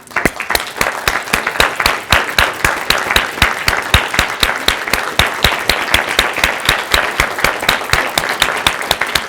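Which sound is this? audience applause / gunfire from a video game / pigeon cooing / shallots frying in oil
audience applause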